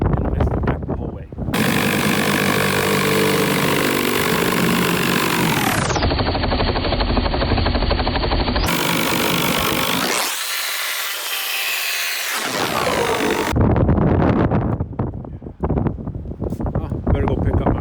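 A power saw rips through a curved roof rafter on a deck, loud and continuous with the motor pitch dropping as it bites into the wood, then winding down near the end.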